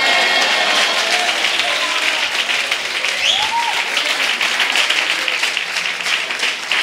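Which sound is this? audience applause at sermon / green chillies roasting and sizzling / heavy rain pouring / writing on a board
audience applause at sermon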